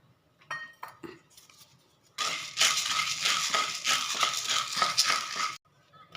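Roasted gram (pottukadalai), 250 grams, tipped into a dry pan and stirred, giving a loud dense rattling clatter of hard grains scraping against metal for about three seconds after a few light knocks.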